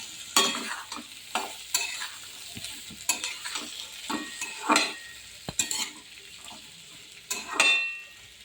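Salted, turmeric-boiled chickpeas and potatoes being stirred and fried in a wok, repeated scraping strokes in uneven bursts over a low sizzle, with occasional utensil clinks.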